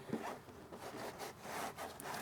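Plush microfiber towel wiped across a carbon fiber front lip on a car: soft, faint rubbing swishes in a few close strokes, quiet and without talk.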